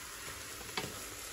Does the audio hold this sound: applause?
no